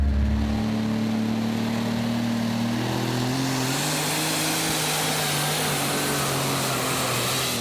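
An old tractor's engine roars loudly and close during a Superstocks tractor pulling run at the 2014 Eurocup in Brande, Denmark, a sustained heavy drone whose pitch shifts and climbs as the engine strains under load.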